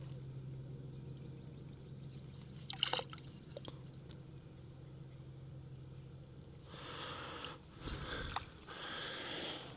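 Water scooped from a stream into a small metal nesting cup outdoors, with soft splashing and pouring bursts around the third second and a longer run of trickling and dribbling near the end, over a steady low background hum.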